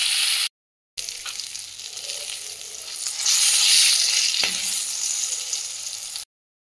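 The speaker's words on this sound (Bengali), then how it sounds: "কড়াইয়ের মধ্যে তেল গরম হয়ে এলে আমি এই বেগুনগুলো দিয়ে দেবো, নুন হলুদ দিয়ে ভেজে নেব" Eggplant pieces fry in hot oil in a wok with a steady, close sizzle. A brief stir or clink is heard partway through, and there are short silent gaps at the start and end.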